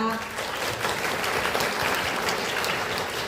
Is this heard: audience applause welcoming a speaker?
yes